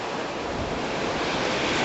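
Steady roaring rush of storm water flowing off a hill and an overflowing pond and creek, mixed with gusting wind buffeting the microphone, loud and continuous throughout.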